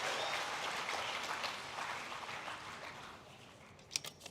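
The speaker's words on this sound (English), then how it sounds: "Give a big applause." Audience applause at a conference inaugural ceremony fading gradually from a steady roar to scattered claps, with a few sharper isolated claps near the end.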